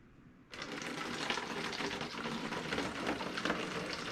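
Homemade wine with yeast and raisins is poured by hand without special equipment while being racked, starting abruptly as a steady close splashing, trickling stream of liquid that continues unbroken.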